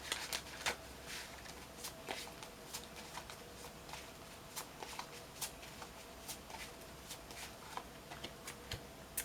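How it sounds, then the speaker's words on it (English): Tarot affirmation cards being shuffled, a soft run of quiet papery flicks and taps with a few sharper card snaps, close up and faint, with no voices. "So let's pull an affirmation card for you for this reading."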